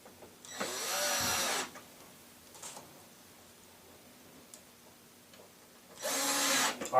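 Power driver running screws into the pre-drilled holes of a Lazy Susan kitchen cabinet base, two loud sustained whirring bursts near the start and end separated by a quieter pause.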